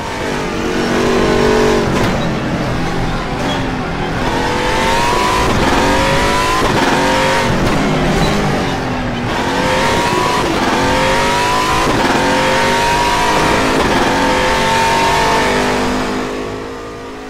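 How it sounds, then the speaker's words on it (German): Race cars in a racing simulation video game, with loud engines revving and accelerating, pitch rising and dropping through repeated gear changes. No one speaks. "Besonders hervorzuheben ist der brachiale Sound, den einige Rennmaschinen von sich geben"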